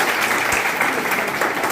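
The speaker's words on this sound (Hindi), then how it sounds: "एक बार जोरदार ताली आपको देनी" Steady, dense applause from an audience at a district school managers' association meeting in Chandauli, a continuous crowd clapping held at even loudness.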